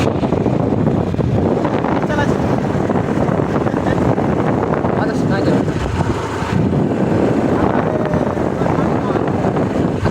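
Wind buffets the microphone during a fast vehicle ride on a cold day near Ramnagar Danga, a loud, steady rushing roar throughout.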